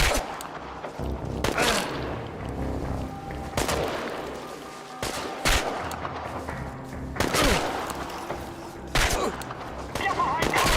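Rapid bursts of gunfire and heavy booming blasts from combat in the video game Chernobylite, with several loud volleys spread across the clip over a constant rumbling background and shouted talk in places.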